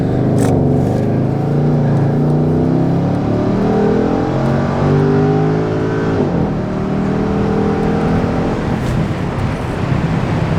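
A straight-piped Porsche 958 Cayenne Turbo accelerating hard from inside the cabin, a loud droning engine roar climbing in pitch through the gears with a brief drop at a shift before rising again.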